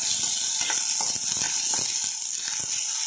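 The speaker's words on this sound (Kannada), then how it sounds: "ಫ್ರೈ ಆವೊಂದುಂಡು" Garlic and onion frying in a pan for a Tulu kori banna manjolu recipe: a steady, loud, close sizzle throughout, with faint scraping and ticking stirs in the oil, no voice.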